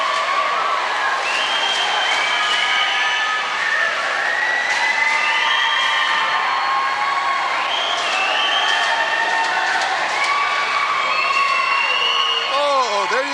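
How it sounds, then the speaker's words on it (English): A hockey crowd at the Sungod Arena in Northern Alberta roars and cheers continuously, with whistles and shouts rising above the steady wash of noise, loud and sustained. "Let's listen to the crowd cheer."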